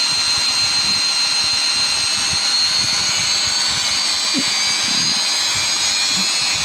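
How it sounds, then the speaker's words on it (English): A Samsung Ecobubble washing machine on its 1200 rpm spin cycle gives a steady, loud whirring drone with a high whine running through it, and a low rumble that thumps now and then. "Watch this. This is spin cycle."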